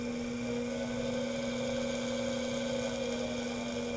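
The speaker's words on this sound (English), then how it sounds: "we'll slowly apply an input signal to make sure the drive commands the motor to rotate" Electric motor powered by a Minarik MM03 drive, giving a steady, fairly quiet mechanical hum with a constant tonal whine, heard alone.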